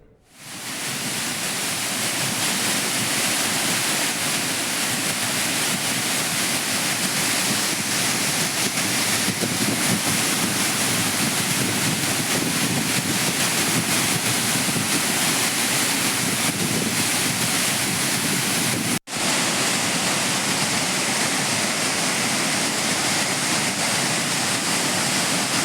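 Flood-swollen Courtallam waterfalls roar in a loud, unbroken rush of pounding water, steady and close throughout, with a brief dropout near the end before the torrent resumes.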